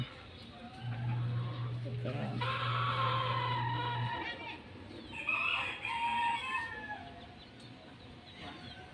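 A gamecock rooster crows nearby, a loud drawn-out call followed by shorter clucking sounds, over a low steady hum with faint voices in the background.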